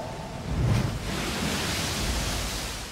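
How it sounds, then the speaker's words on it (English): Rough, tumbling sea waves make a steady, loud broadband roar with a slight surge near the start, heard alone and without any voices. "The waves are no longer just sort of rough sea, it's now tumbling sea."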